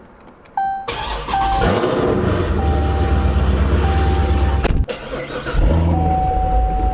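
A Dodge Challenger ScatPack with stock exhaust cranks and fires up, settling into a loud, steady deep idle close by, with a brief dip before rising again; a short spoken word is heard.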